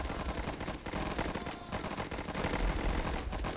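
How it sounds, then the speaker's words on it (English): In the World War I video game Warfare 1917, a Lewis gun fires rapid, sharp bursts that run almost without pause, loud and close. "they also have a Lewis gun"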